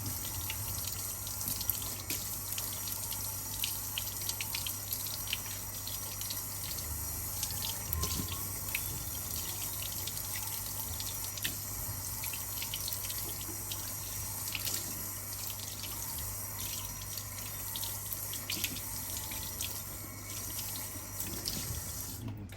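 A kitchen or bathroom tap runs steadily for hand rinsing, a constant close splashing rush of water into a sink with no voices.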